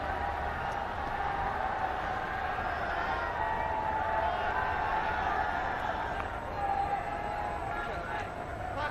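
Constant roar of a small cricket stadium crowd during the 2005 India vs Sri Lanka Test in Delhi, a broad wash of voices and murmuring that stays loud and steady throughout, with faint occasional shouts.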